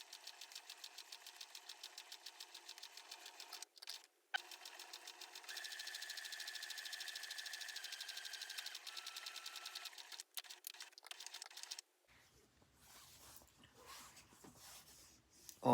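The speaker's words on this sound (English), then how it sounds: "I'm going to sew my notches first and then my seams." Sewing machine stitching the notches and seams of a handmade bra, a steady close mechanical whirr running in long bursts with brief pauses, ending in quieter handling noise.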